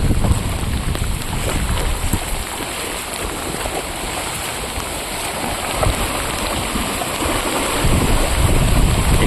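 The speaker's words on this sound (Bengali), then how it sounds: "জলটা দেখুন কত স্পিডে জল এখান দিয়ে পাস হচ্ছে" Fast-running floodwater surges past a bridge at Chittaranjan after days of continuous rain, heading toward the Fatehpur dam, a steady loud rushing wash with wind-like roar throughout and no speech.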